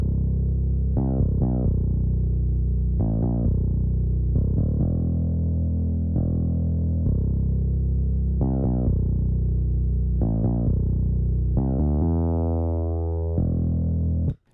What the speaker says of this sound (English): we have the bass, which is going to sound like this